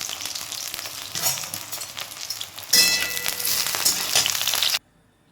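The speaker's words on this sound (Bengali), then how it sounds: "প্রথমে আমি বেগুনটা ভেজে নেব।" Brinjal (eggplant) pieces dropped into hot oil in a wok, a loud crackling sizzle that swells sharply partway through, then cuts off abruptly into silence; no talking.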